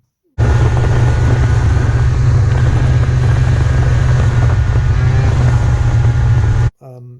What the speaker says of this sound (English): Triple 2-strokes are the best sounding motors, bar none.